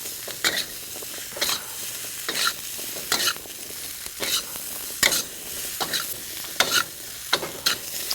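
Zucchini pieces coated in spices are stirred in a sizzling pan, a steady fry hiss broken by regular scraping strokes of the spoon, close and clear with no talking.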